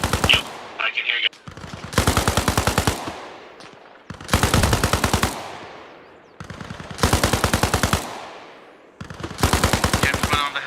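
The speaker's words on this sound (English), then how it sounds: "Come to the gunfire, you'll see us around." Automatic weapon fire in the military shooter game Arma Reforger: five long, loud bursts of rapid rounds with short pauses between, each rolling off into a reverberant tail, with brief radio-style voices early on.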